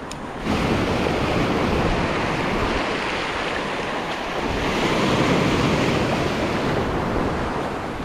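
Loud ocean surf around an island rushes and crashes continuously, with wind buffeting the microphone; no voices.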